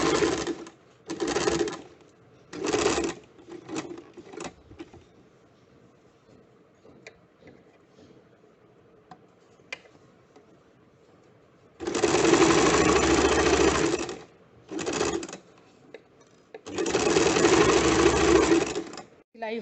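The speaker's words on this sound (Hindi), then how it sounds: "इसी तरह से दूसरे हिस्से के शोल्डर को भी सिल लेंगे।" A sewing machine stitches the shoulder seam of a garment in several loud, rapid bursts of rhythmic clatter. Short runs come first, then longer runs near the end, with quiet handling in the pause between.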